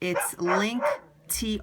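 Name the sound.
dog barking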